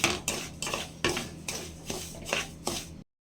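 A spoon stirs half a spoonful of oil into semolina (rava) in a metal pan for laddu. It makes a series of sharp, close scraping clinks about every half second, loud and with no talk.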